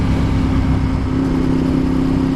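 A Ducati 848 Evo motorcycle engine runs close and loud, a constant throbbing tone that rises slightly in pitch as the revs build, with no one talking.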